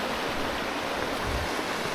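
Rushing water at the top of a waterfall on Beinn Eighe in the Scottish Highlands, a steady broadband roar that holds even and close for the whole clip with no other sounds.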